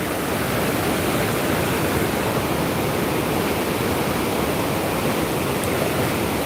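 Floodwater of the Hope River surging loud and close after Hurricane Melissa, a steady broadband roar of rushing water with no pauses, filling every moment like a torrent pouring from all sides.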